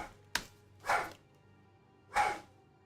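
A dog barks three times in a quiet room: one sharp short bark, then two longer, louder barks about a second apart, with no voices.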